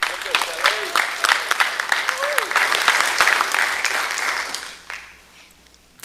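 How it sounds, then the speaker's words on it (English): Audience applause at a school board regular session welcoming a new elementary school principal, a dense steady round of clapping that carries on for several seconds, then thins out and fades toward the end. "please give a big round of applause to the new principal of Legacy Elementary, Kelly Ogilvie."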